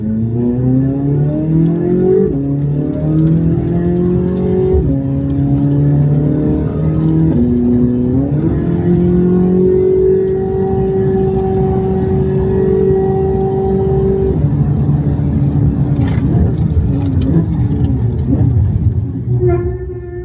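Two vehicles, a 670 hp Corvette C8 Z06 with carbon ceramic brakes and a 1025 hp Rivian electric truck using regenerative braking, during a braking test; a loud, continuous engine drone steps down in pitch as the car decelerates, with faint talk.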